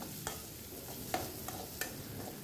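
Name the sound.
onions sautéing in a pan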